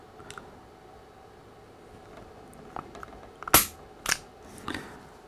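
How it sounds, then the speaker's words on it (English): A Jimenez Arms JA22 pistol dry-fires as its trigger is pulled and the firing pin snaps forward, giving one sharp metallic click followed by a few softer mechanical clacks, close and alone. "the reason I pulled the slide back a tiny bit when I pulled the trigger"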